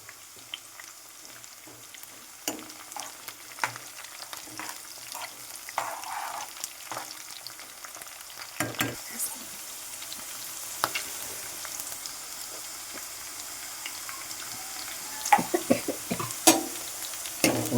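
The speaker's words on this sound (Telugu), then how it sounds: "ఉల్లిపాయలు వేగిన తర్వాత పచ్చిమిరపకాయలు కూడా వేసుకోవాలి" Onions and green chillies fry in a pan for a village-style chicken fry, a steady close sizzle broken by repeated scraping stir strokes, louder toward the end, with no talking.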